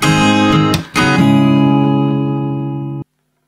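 A guitar strums a chord progression from the intro of a beginner song lesson, loud and close, with a short break in the ringing before the last chord sustains and is abruptly cut off.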